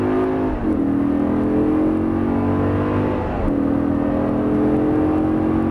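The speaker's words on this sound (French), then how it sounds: "vas-y, accélère fort là" A car accelerating hard on a race track, engine roaring loudly and steadily from inside the cabin with the pitch climbing through two gear changes.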